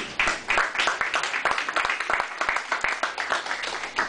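A congregation at a French-language church service applauds, with steady, dense clapping that stays loud and near throughout, and no voices stand out above it.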